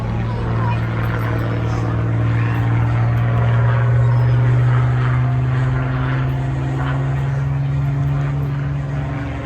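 A Spitfire flies at the Folkestone air display, its propeller engine droning steadily at a distance throughout, a low sustained hum with a faint announcer's voice beneath.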